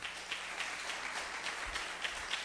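A church congregation claps together, a soft, rapid, steady patter of many hands with faint rhythmic pulses, heard at a distance and fairly quiet.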